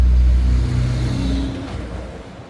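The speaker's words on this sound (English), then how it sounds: "Ooh, that was a logging truck." A heavy logging truck rumbles past outdoors, its loud low engine drone close at first and then gradually easing off as it moves away.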